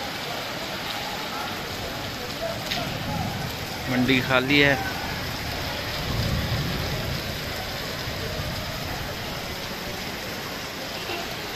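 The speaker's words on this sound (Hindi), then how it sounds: "वो देखें जी बारिश की स्पीड।" Heavy rain pours steadily at a market in Khanpur, a dense continuous hiss throughout, with someone briefly speaking over it partway through.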